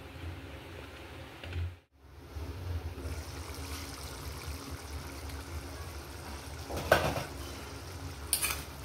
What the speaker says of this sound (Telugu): ఇప్పుడు మీడియం ఫ్లేమ్లో పెట్టేసి ఆ పులుసు మన దగ్గర పడే వరకు ఉడికించుకుందాం.